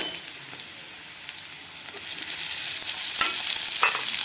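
Onions and tomatoes sauté in a pan for poha, a steady soft sizzle with occasional stirring scrapes and clicks that grow slightly louder partway through, no voices.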